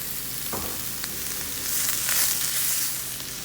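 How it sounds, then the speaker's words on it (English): Onions sautéing in a hot pan for Chinese stir-fried vegetables, a continuous close sizzle with occasional stirring scrapes and a brief swell in the hiss. "So I'm gonna let that saute, and then we're gonna add in the rest of our vegetables. I'm gonna add in all of our onions."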